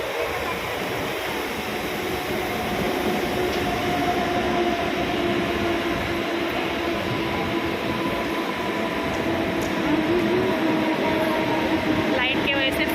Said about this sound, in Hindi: अभी चलो ट्रेन आ गई है